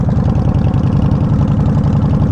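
A warmed-up Yamaha Warrior 1700 V-twin motorcycle idles steadily, with a deep, loping low rumble and even pulses that stay close and loud throughout, with no other sounds.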